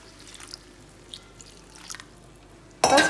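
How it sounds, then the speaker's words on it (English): Water pours from a glass into a pan of mashed potato masala for poori, a short splashing gush at the very end after a few faint drips in an otherwise quiet kitchen. "Now I'm going to add 2 glasses of water into it."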